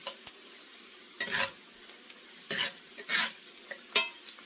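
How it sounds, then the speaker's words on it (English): Garlic cooks in a pan with ground beef, giving a soft steady sizzle with close scraping stir strokes from a utensil at irregular intervals, with no voices. "now I'm going to add my garlic. And let that cook inside."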